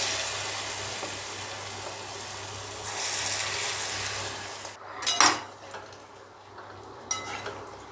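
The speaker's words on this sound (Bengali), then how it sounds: "দিয়ে এবার বড়াগুলো ভাজবো" Moong dal boras dropped into hot oil, a soft steady fry hiss that grows, then a sharp clatter and a brief splash of sizzle, close by with no talking.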